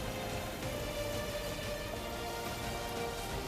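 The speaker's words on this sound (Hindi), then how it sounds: "शहर शहर मुसीबत मूसलाधार, बाढ़ और बारिश से हाहाकार।" Torrential monsoon rain falls during flooding in Bihar, a thick unbroken hiss of downpour with a faint tonal hum running through it, constant and loud with no speech.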